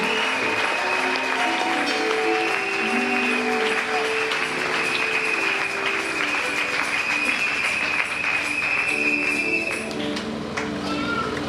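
Church congregation clapping in steady, dense applause through a worship service, with a sustained tone and voices underneath; the clapping thins out near the end.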